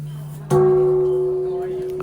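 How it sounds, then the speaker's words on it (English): A bronze temple bell in Tokyo is struck once at New Year, giving a sharp close strike followed by a long, even, humming resonance that slowly fades. "And the sounds of a bronze bell is very"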